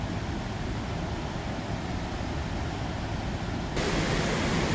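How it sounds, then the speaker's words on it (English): Eagle Falls pouring over its rock ledge in Cumberland Falls State Park, a continuous broadband roar of falling water that swells slightly louder toward the end, with no talking. "There's the pour over of the falls."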